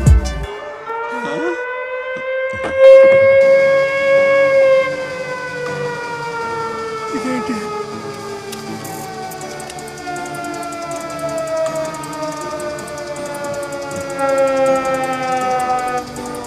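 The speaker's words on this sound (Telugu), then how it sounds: "సైరన్" A wailing siren rises and holds a long sustained tone, then slowly falls in pitch, loud and prominent over a brief sharp noise near the start, with no speech.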